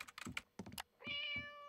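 Cartoon cat meowing from a played cat video, a brief clear sustained meow following a few quick tapping thumps.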